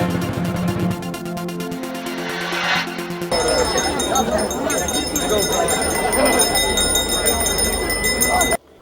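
A school's first bell rings at a schoolyard ceremony marking an Uzhhorod gymnasium's 20th anniversary, with steady bright ringing over a loud, busy crowd and voices talking throughout.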